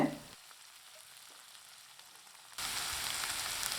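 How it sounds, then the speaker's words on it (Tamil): Soft sizzling of chopped beans and carrots in a pan over medium flame, quiet at first and then jumping to a louder, steady crackling hiss. "மீடியம் ஃப்ளேமில் காய்கறியை ஒரு மூணு நாலு நிமிஷம் நல்லா வதக்கி விடுறதுலே நல்லா வெந்து வந்துடுங்க"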